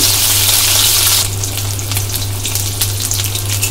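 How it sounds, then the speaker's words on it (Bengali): Fish pieces fry in hot oil in a pan for a Bengali fish curry with drumstick stalks and potatoes, giving a loud, steady hiss and sizzle that continues throughout with no talking. "মাছগুলো লাল লাল করে ভেজে নেব দু সাইড থেকেই।"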